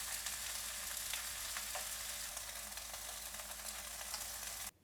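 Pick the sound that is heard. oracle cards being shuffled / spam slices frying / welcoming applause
spam slices frying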